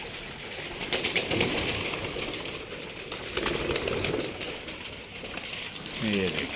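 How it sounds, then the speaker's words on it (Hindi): Pigeons coo and flutter close by, a busy mix of soft calls and wing sounds. A short coo stands out near the end. "सारे कबूतर माशाल्लाह मज़े में एंजॉय कर रहे हैं"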